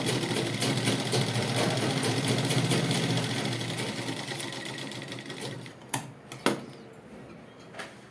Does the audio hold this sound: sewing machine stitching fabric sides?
yes